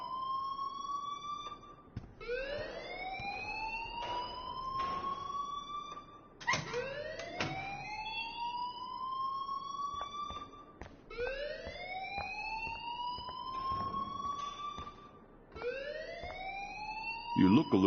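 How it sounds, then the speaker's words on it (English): An electronic alarm wails in the video game Life is Strange. It sweeps upward in a rising tone that repeats about four times at a steady pace, loud and continuous. "please turn off that alarm since that's your job."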